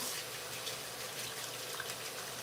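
Cold tap water runs steadily into a kitchen sink while chicken thighs are rinsed, a soft continuous splashing hiss at low volume with no talking.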